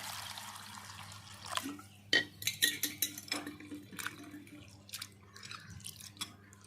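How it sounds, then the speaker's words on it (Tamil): Soaked rice being rinsed in water in a home kitchen, with irregular splashing, dripping and light clinks of a metal vessel, fairly close and moderately loud, with no talking. "தண்ணி ஊற்றி நல்லா அலசி எடுத்துக்கலாம்"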